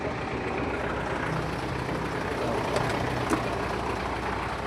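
A running bubble top vehicle with an F17D engine idles steadily nearby, a low continuous rumble with a couple of faint clicks, heard without speech.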